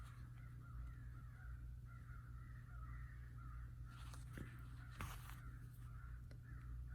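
Crows cawing repeatedly in a steady series of harsh calls, moderately distant and faint over a constant low outdoor hum, with a few louder caws near the end.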